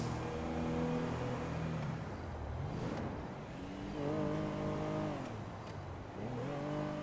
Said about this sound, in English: There's a lot of fuel trucks out here today.